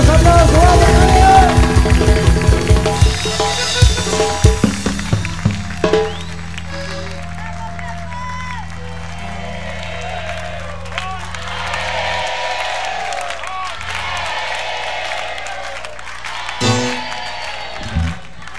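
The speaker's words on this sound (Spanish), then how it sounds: "Fuerte los aplausos, vamos, Tadeo." A stadium crowd in the stands at a festive event claps and cheers in loud bursts and swells, mixed with music, with an announcer talking over the noise.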